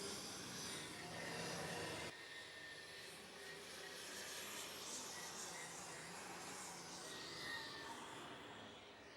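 A light super stock pulling tractor running big single turbos at an outdoor tractor pull roars as a broad, sustained engine howl heard from a distance, fairly faint but continuous.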